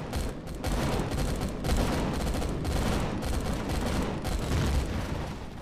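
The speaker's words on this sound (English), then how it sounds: "Something's shooting at us." Sustained gunfire rakes the player in the space survival game Empyrion, with dense, loud bursts of shots and booms rolling continuously without pause.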